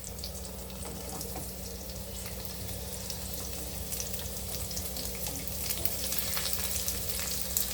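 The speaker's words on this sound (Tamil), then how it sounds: "வெங்காயத்தை கட் பண்ணி போட்டுடலாம்" Chopped onions fry for mushroom biryani, giving a soft, continuous sizzle with faint stirring, close by and fairly quiet, with no one speaking.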